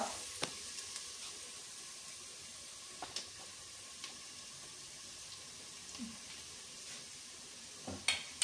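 Chana dal and urad dal frying in hot oil for a raw banana curry, making a faint steady sizzle broken by scattered small pops and a couple of utensil clicks near the end.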